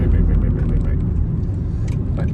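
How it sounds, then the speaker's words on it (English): A Nissan NV200 van brakes hard in an emergency stop, with loud, steady low engine and road rumble inside the cabin that eases slightly toward the end. "and then we're going to apply an emergency stop,"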